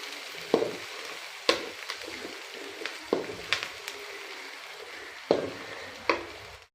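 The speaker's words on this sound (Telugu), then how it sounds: "ఉల్లిపాయలు కొంచెం వేగాయండి. ఇప్పుడు కరివేపాకు 3 రెబ్బలు వేసుకుందాం." Onions and curry leaves frying in oil in a pan for a village-style fish curry, a steady close sizzle punctuated by several sharp stirring clacks and crackles.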